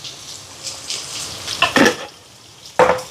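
Onions sauté in a pan for a chicken curry, a soft low sizzle broken by a few sharp scraping stirs of a spoon against the pan, close by and without talk.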